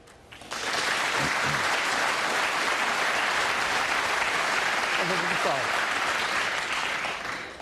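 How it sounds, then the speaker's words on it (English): A snooker crowd breaks into loud, sustained cheering and applause for a century break by Ronnie O'Sullivan, erupting suddenly and holding steady at full volume. "Stand by for the cheer."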